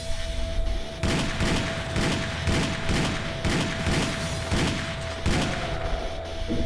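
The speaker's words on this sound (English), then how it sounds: "Hear that gun? Sounds much more badass. Shotgun too." Gunfire in the video game Doomsday, a rapid series of loud booming shots repeating roughly every half second over a constant game hum, with heavy low-end thumps.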